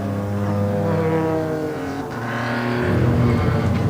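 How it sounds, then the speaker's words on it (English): Safety car circling the Donington Park race track during a live BTRC and pickup truck race meeting, a steady harmonic engine drone holding loud and continuous throughout, shifting slightly in pitch as it passes. "As you can hear, the safety car's still out on the track"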